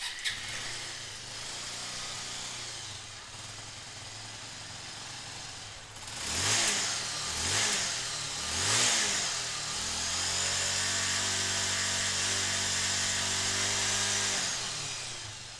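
A Bajaj Avenger motorcycle engine with a battery charging problem cranks and catches with a few revving surges, then settles into a steady idle hum.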